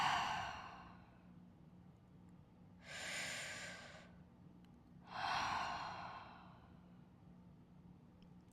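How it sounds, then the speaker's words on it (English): A long, audible exhale during a guided yoga breathing exercise, with breath sounds rising three times over a quiet room and no talking. "exhale."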